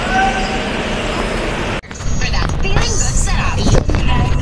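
Inside a moving passenger bus in traffic, a loud, steady engine and road roar shifts abruptly partway through into rattling, clattering cabin noise with a rising motor whine.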